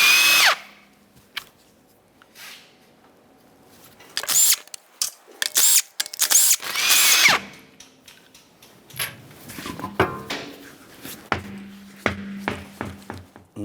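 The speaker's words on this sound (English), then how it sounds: "we're going to remove the wheel by removing all 5 of our 21mm lug nuts" An impact tool zips off 21mm wheel lug nuts on a raised car in several sharp, loud bursts, each separated by short pauses and light clinks, with a softer rattling stretch toward the end.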